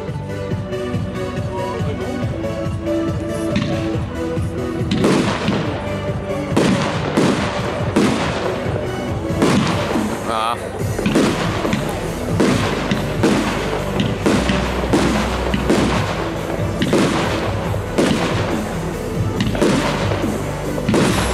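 A long barrage from a 20-shot, 30 mm firework battery bursting in quick succession, loud booming thumps and crackles repeating one after another for about twenty seconds.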